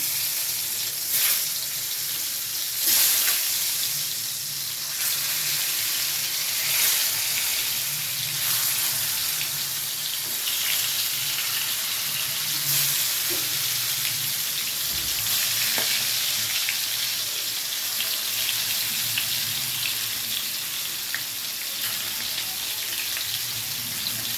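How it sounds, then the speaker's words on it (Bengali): Pointed gourd (potol) pieces fry in mustard oil in a wok, giving a steady, close crackling sizzle that runs unbroken throughout with faint clatters and scrapes now and then. "তেলটা যখন হালকা গরম হয়ে উঠবে তখন এর মধ্যে পটলগুলো এক এক করে দিয়ে ভেজে নেব লাল লাল করে।"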